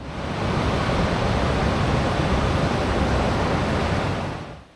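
Powerful ocean surf at Echo Beach in Canggu, Bali, a steady broad roar of breaking waves that holds loud and constant throughout with no voices, easing away only at the very end.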